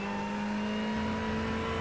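A Ferrari 488 GT3 Evo in the iRacing sim at Spa-Francorchamps holds a steady, loud engine drone at half throttle through a corner, its tone staying even with no speech over it.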